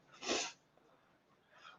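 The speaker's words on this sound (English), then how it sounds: "sorry for the sniffles" A short sharp nasal sniff or sneeze-like burst, followed by quiet breathing and a fainter second sniffle.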